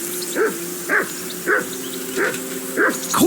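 A dog in the medieval game Kingdom Come: Deliverance II barks five times at a steady pace, close and fairly loud, with a faint low hum underneath.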